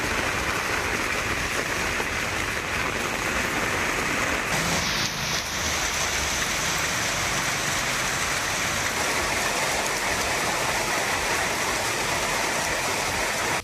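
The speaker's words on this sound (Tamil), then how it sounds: "மாலையில் மிதமான மழை பெய்தது" Moderate evening rain pours steadily in a dense, loud hiss that stays unbroken for over ten seconds, with a brief muffled rumble near the middle and no voices.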